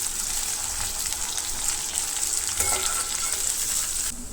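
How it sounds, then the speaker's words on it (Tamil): Small shallots sauté in oil for a chicken masala fry, giving a continuous close sizzle with light stirring scrapes throughout and no voices. "சேர்த்து நல்லா பொன்னிறம் வர வரைக்கும் வதக்கிக்கலாம்"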